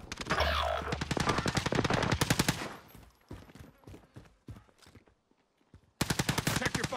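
Video game gunfire in a battle royale resurgence match: dense bursts of automatic shots, then sparser scattered single shots and quieter gaps before another loud burst at the end.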